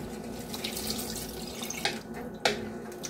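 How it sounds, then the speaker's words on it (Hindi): Water splashes and trickles steadily into a pressure cooker holding fried jackfruit curry, a continuous hiss with a couple of sharper splashes near the end. "अब हम इसमें पानी ऐड करेंगे।"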